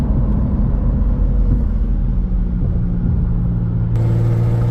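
Infiniti Q50 with a Remark axleback exhaust on the move, giving a steady, loud low exhaust drone under road noise throughout, with a deeper tone in the last second.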